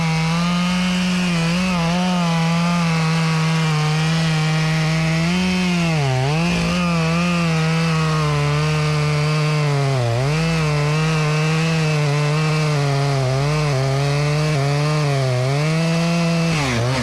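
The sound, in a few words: chainsaw cutting big cottonwood tree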